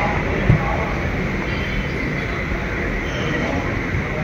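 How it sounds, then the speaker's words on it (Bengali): A train at a Kuala Lumpur metro station near Gombak gives a loud, steady rumble and roar that fills the whole stretch, close by, with a brief knock near the start. "আমি এখন মেট্রো স্টেশনে আছি"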